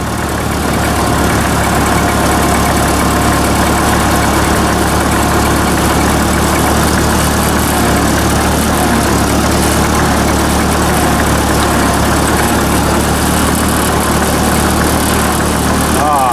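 A small tractor engine, driving in second gear over grass, chugs steadily at a constant, loud drone with a low rumbling vibration, running continuously without pause.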